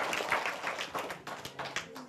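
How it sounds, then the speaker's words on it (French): Children applauding in a classroom-style quiz circle, a short burst of fairly quick, uneven hand claps with some sharper taps, moderately loud and close, no voices over it. "Applaudissez à chaque fois."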